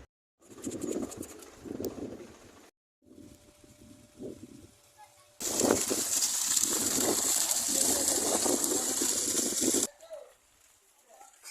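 Water gushing hard from the outlet of a solar water pump, a loud continuous rushing burst in the middle section, preceded by shorter bouts of splashing and followed by quieter trickling.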